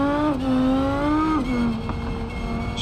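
A track car in the BeamNG.drive driving game revs hard and continuously, its engine tone climbing and dropping through gear changes, loud and close with no talking.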